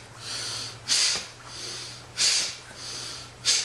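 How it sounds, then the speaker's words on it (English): Three forceful, rhythmic exhalations through the nose during a kundalini root chakra breathing exercise, close and evenly spaced with softer inhales between. "Powerful breaths. Inhale as the leg comes out,"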